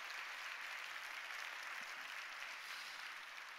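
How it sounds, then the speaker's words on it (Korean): A church congregation at an evening revival service claps together in sustained, dense applause that holds steady and fills the room throughout. "우리 당위원들, 목사님들, 성도님들 박수로 한번 격려했으면 좋겠습니다"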